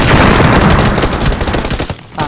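Loud, rapid gunfire fills the moment in the video game PUBG Lite, dense overlapping shots firing close and continuously with no pause.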